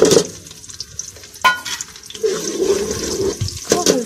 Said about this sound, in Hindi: प्याज डालूँगी